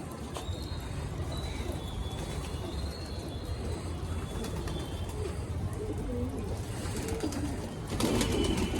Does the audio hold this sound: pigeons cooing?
yes